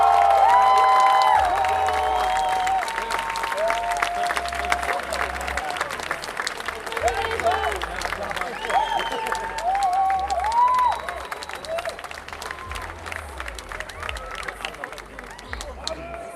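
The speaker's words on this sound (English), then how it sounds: "So, an applause for Eddie." An audience at a DreamHack 2019 cosplay contest applauds the journeyman-division prize winner. The clapping is loud and sustained with cheers scattered through it, amplified voices and music sound faintly underneath, and the applause slowly tapers off.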